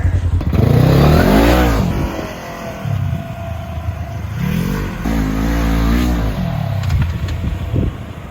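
A Harley-Davidson motorcycle engine being built up to about 200 hp revs hard in repeated bursts while trying wheelies, each throttle blip rising and falling loudly and close, with brief clattering between pulls.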